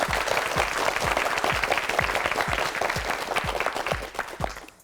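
Studio audience on a Korean TV vocabulary quiz show claps in a steady burst of applause, dense and close, with rhythmic pulses from a few hands standing out, fading toward the end.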